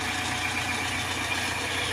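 Mitsubishi Montero engine idling while it warms up, a low, steady rumble with a faint hiss above it, continuous and moderately quiet, with no voices.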